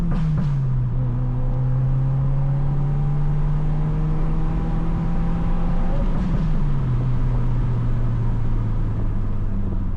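Stock exhaust of a Subaru VB WRX under steady acceleration through the gears, a continuous droning engine note rising in pitch, dipping as a shift lands near the six-second mark, then climbing again at close, loud range.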